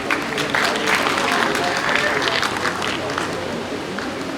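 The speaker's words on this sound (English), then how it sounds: "let's have a huge round of applause for ma'am" An audience at an indoor event applauds heavily after a speech, with loud, dense clapping close by that stays steady for several seconds. A low crowd murmur runs beneath the clapping.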